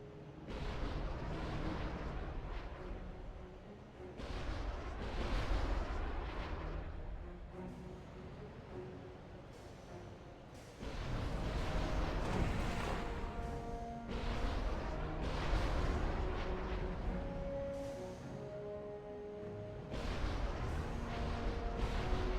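Repeated booming explosions in the real-time strategy game Supreme Commander during a UEF campaign mission, several heavy blasts rolling one after another at steady loudness with dense low rumble and no talk.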